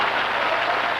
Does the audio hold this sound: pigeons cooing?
no